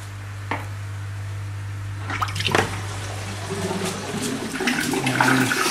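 Water rushes and gurgles as it drains through a greenhouse swirl filter sink, beginning as a low steady flow, then swelling into louder splashing and turbulent gurgling that grows over several seconds.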